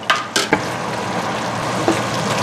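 Sliced onion drops into a hot pan beside fried chicken and sizzles loudly, with a few sharp clatters of stirring at the start and a steady crackling fry after.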